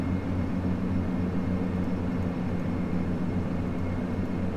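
Turboprop engines of a Dash 8 Q400 airliner drone steadily during a power climb in a flight simulator, a loud, even hum with low tonal bands and no talking.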